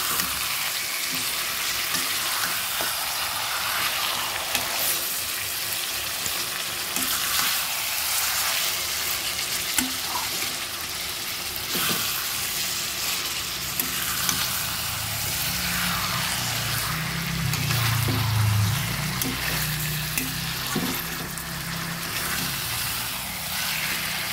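Mutton and onions fry in a pan with a continuous loud sizzle, occasional stirring clatter, and a deeper bubbling swell later on.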